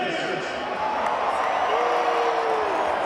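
Dense crowd noise at a football tailgate before a USC versus Cal game, a continuous roar of cheering and scattered clapping, with a voice over a loudspeaker running on top.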